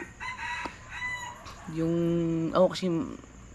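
A chicken clucks and crows loudly up close, in drawn-out, wavering calls with short clucks between them, over faint background noise.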